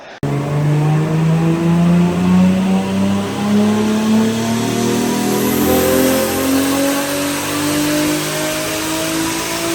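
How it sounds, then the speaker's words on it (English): A Nissan GTR R34 with a Greddy turbo revs hard on a dyno at 18 PSI, its loud engine note climbing steadily and continuously for the whole stretch with no talk over it. "this thing went on the dyno, and it managed to throw down 637 horsepower at 18 PSI"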